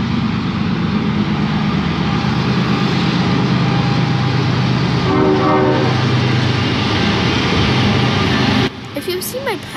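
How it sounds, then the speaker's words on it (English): A Canadian Pacific ethanol freight train, CP686, rolls past loud and close with a steady rumble and clatter of cars, and its horn sounds clearly midway; a voice speaks over it. "This is CP686, an ethanol train bound for Bensenville, Illinois."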